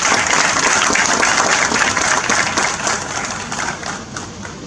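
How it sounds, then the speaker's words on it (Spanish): A loud burst of audience applause welcomes a speaker at a talk, many hands clapping densely at first and then gradually thinning and fading. "Señoras y señores, recibamos con fuerte orgullo un fuerte aplauso al doctor Andrés L. Mateo."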